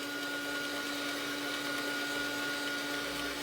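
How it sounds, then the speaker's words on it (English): A heat tool blows with a constant, even whirring hum and a steady airy hiss while drying paint in an art journal, with no pauses. "I'm going to make noise. And this will help the drying process."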